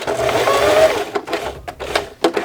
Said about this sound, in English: now it's going to sew the edge of the buttonhole